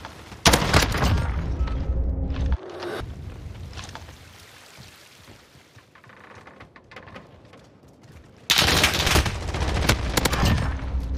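Video game gunfire from a round-based shooter match comes in two loud sustained bursts of rapid shots at the start and end, with quieter scattered shots and ambience between them.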